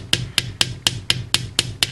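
A metal hammer strikes jewelry wire for earrings on a hard block, eight sharp, evenly spaced taps in a steady rhythm, close and clear with a short ringing ping on each blow.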